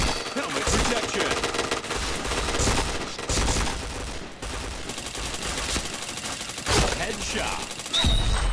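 Rapid gunfire from the online shooter Point Blank, dense overlapping bursts and shots running almost continuously at a loud, close level, with game effects layered throughout.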